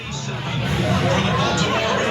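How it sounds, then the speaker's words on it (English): A bar crowd of fans in blue and orange jerseys before the Super Bowl makes a steady hubbub of overlapping voices and cheering, moderately loud and continuous throughout. "Listen to this crowd."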